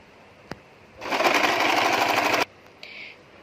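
A sewing machine runs one steady burst of rapid whirring stitches, about a second and a half long, double-stitching a nighty, with small clicks just before and after.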